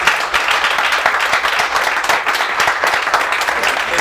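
A comedy club crowd applauds steadily for a few seconds, with dense clapping and scattered sharper claps close by, under faint crowd murmur.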